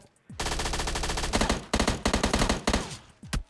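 Automatic gunfire in PUBG Mobile Lite, a close, loud rapid rattle of shots in several sustained bursts, broken by brief gaps and ending with a few isolated shots.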